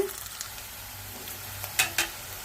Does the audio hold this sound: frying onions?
yes